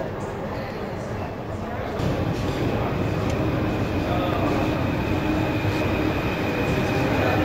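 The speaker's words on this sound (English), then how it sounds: "You're using the Paris Metro." A Paris Metro subway train rumbles from a low hum into a louder, steady roar of wheels and carriages, with faint clicks over the track and voices partly buried in the noise.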